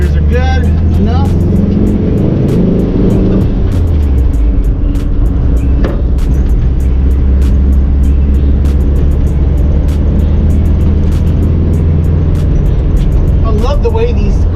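A 1961 Volkswagen with a manual transmission being driven, its engine droning loudly and steadily from inside the car, with a pitch shift around a gear change early on and faint voices underneath.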